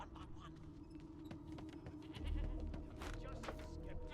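A sheep bleats in the fantasy role-playing game Divinity: Original Sin 2, with short bleats heard under a steady background of game ambience and a low rumble, and no clear talking.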